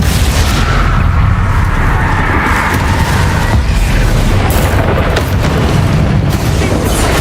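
Spell blasts such as Bombarda and Confringo in Hogwarts Legacy during a Dark Arts run: loud, continuous rumbling booms and crackling bursts layered densely with no pause throughout.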